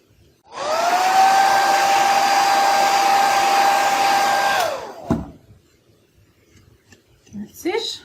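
A hair dryer blowing on freshly painted kitchen decor, a loud steady whine lasting about four seconds before switching off, followed by faint handling noises and a short soft voice.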